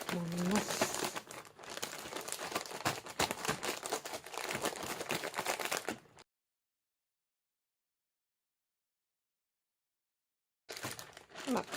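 Pickled wakame seaweed being kneaded inside a plastic zipper bag gives close, busy crinkling and squishing for about six seconds, then silence, then a brief return of crinkling at the end.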